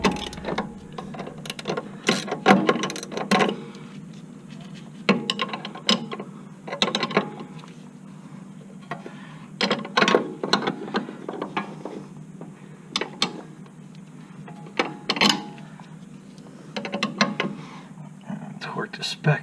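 A hand ratchet tightens front strut bolts on a 2007-2011 Honda Accord, giving repeated bursts of clicking ratchet strokes at close range with short pauses between them, with faint low murmuring in the background.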